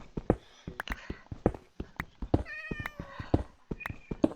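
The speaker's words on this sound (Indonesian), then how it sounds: "Aduh, ada kucing." A cat meows in a Minecraft hardcore game, several short tonal mews in quick succession mixed with clicky footstep and game sounds, fairly quiet and close.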